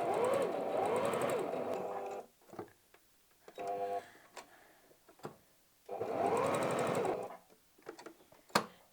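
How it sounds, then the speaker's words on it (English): Sewing machine top stitching a fabric wallet to secure a button, running in two long bursts of steady rapid needle clatter separated by quieter pauses with handling noises and clicks. "So I'm just going to again just do a quick top stitch,"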